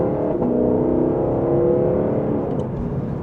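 Lexus LC500 coupe with a 471 hp engine accelerating up to speed, a steady whirring exhaust drone heard from inside, with quick shifts and a faint pop near the end.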